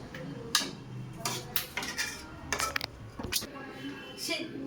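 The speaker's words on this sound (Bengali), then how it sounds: "এই অবস্থায় আমরা একটু চাপা দিয়ে দেবো কিছুক্ষণের জন্য" A metal lid set down over a pot of coriander chicken on the stove, giving several scattered clinks and clatters of metal cookware at close range, with no talk.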